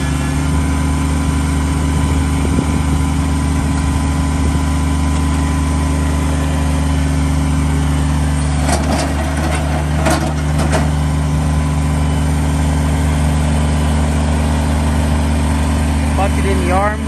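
A Kubota BX2350D four-wheel-drive diesel compact tractor with an LA243 front loader idles at an outdoor auction, a steady, even, close diesel drone throughout with a voice talking over it.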